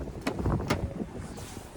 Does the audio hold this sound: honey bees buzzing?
no